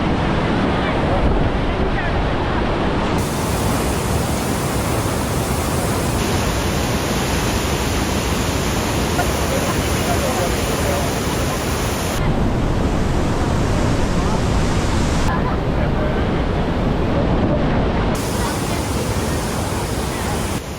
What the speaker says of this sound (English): I don't think I've ever seen the sheer raw power of the water being squeezed through this narrow gorge